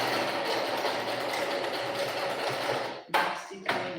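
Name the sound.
sewing machine stitching elastic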